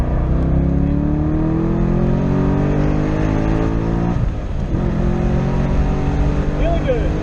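Corvette C6 Z06 with an LS7 V8 accelerating on a race track, heard from inside as a loud, rising engine roar that drops at a gear change and climbs again.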